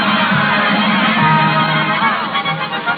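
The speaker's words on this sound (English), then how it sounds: "he listens to the cheers of the crowd" A circus audience cheers and applauds in a dense, steady roar that fills the whole stretch, loud and close with no clear voices standing out.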